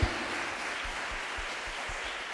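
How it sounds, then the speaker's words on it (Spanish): A church congregation claps steadily, a dense wash of applause with a few louder low thumps, held at moderate loudness throughout. "Así que un aplauso a nuestro Jesús libertador."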